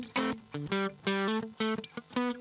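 Electric guitar played through distortion without any cabinet simulation, sounding buzzy and harsh in short, choppy phrases of separate notes and chords, heard alone.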